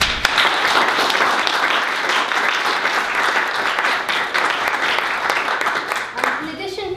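Conference audience applauding to welcome two panel speakers at a discussion on radicalism in Utah, with dense sustained clapping from a large crowd that fades out near the end.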